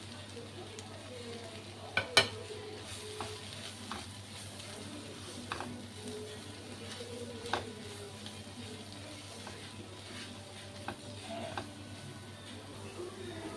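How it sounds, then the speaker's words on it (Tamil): Masala fries for a potato gravy, with a faint steady sizzle under scattered spoon taps and scrapes against the pan. "இப்போ இது நல்லா ஃப்ரை ஆகிடுச்சு. மசாலாலாம் போட்டேன், மிக்ஸ்ட் ஆகிடுச்சு."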